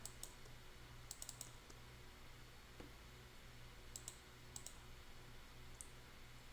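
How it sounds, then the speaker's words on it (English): A name is typed on a computer keyboard, quick bursts of light key clicks in small clusters over a steady low background hum, close and fairly quiet. "Let's type in his full name and see what we get."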